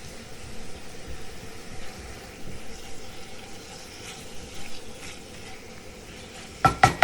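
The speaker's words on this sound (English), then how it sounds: "So you just saute that all up." Shrimp, onions and peppers sautéing in butter in a pan, a soft, steady sizzle with faint stirring, ending in a couple of sharp utensil clinks.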